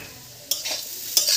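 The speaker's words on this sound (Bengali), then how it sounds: "গরম মশলা ফোড়নটা দিয়ে দিই।" Whole spices in hot ghee, bay leaf, cinnamon, cardamom, cloves and peppercorns, crackle after landing in the pan, with two sharp bursts of sizzle and stirring, moderately loud, with no talking.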